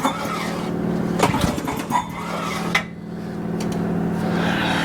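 A Troy-Bilt rototiller engine being cranked on choke without catching, a low mechanical churn with a few uneven pulls and sputters before settling into a steady hum.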